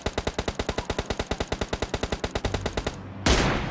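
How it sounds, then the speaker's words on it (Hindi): Rapid automatic gunfire from the game PUBG Mobile on the Vikendi snow map rattles in a fast even burst of about thirty shots, followed by a short noisy whoosh. "मैं शॉट ले रहा हूँ"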